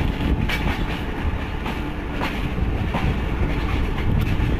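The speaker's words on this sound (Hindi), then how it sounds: "दोस्तों हरनपुर जंक्शन को लेफ्ट कर दी है 6 Down ने।" 6DN PDK shuttle train running between Malakwal and PDK, a loud, steady rumble of wheels on track with repeated clickety-clack beats, heard close, with no voices.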